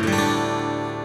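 A single strum of an acoustic guitar in DADGAD open tuning rings out openly, the chord sustaining and slowly fading over about a second.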